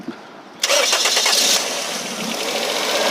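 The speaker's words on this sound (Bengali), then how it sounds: "স্টার্টের সাউন্ডটা হবে এমন ইঞ্জিনের সাউন্ডটা" A used Toyota F Premio car engine cranks and catches after a brief quiet start, then settles into a steady, smooth idle, close and fairly loud with no talking.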